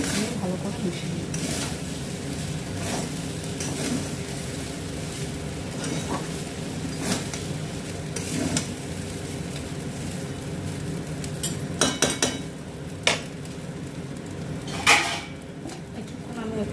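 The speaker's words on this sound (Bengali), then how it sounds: "ভালো করে মিশিয়ে দেবো।" Fried rice with fried chicken tossed and stirred in a pan, soft continuous scraping and faint sizzle with occasional metallic clinks from utensils, close by, with light talk in places.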